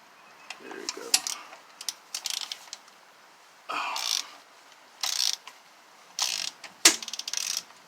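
Metallic ratcheting clicks and clinks in short bursts while removing the last engine fastener from a Scion tC with a locked-up engine, close and fairly loud, separated by quiet gaps.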